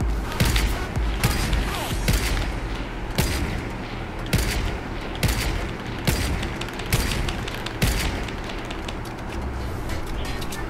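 Repeated heavy gunshots in Fortnite Battle Royale ring out at a steady, evenly spaced rhythm, close and loud, over a dense background of game noise.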